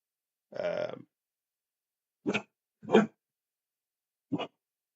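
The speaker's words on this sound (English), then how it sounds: "That's my dog barking away because she thinks that somebody's by the front door" Four short, muffled dog barks spaced irregularly, the first a bit longer, against silence.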